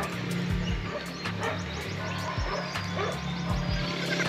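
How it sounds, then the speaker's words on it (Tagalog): Dog barking outdoors in a rural Pangasinan province setting, a few sharp barks and yips spread through the clip over steady background noise, with no talk. "Merong aso."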